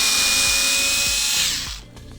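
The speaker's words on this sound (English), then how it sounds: "First thing you're going to need is a T10 bit, a Torx bit. You're going to unscrew these two" Power driver with a T10 Torx bit backing out screws on an Xbox One X console, a loud, close whirring buzz with short repeated bursts, then spinning down to quiet.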